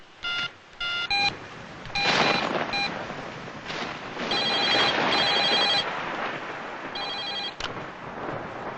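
A telephone rings loudly and close by in repeated electronic bursts separated by short gaps, some bursts running longer than others, with no talking over it.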